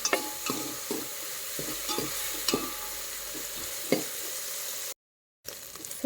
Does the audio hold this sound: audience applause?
no